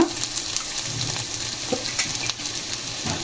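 Ginger garlic paste frying with cauliflower in a pan: a steady hissing sizzle, with scattered soft scrapes and clinks as the mix is stirred, and no talking.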